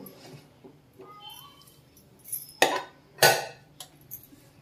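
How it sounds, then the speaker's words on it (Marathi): A lid is fitted onto a pressure cooker holding mutton, heard as two sharp metallic clanks close by after quieter handling noises, with faint background sounds. "तर हे मी झाकण लावून घेते।"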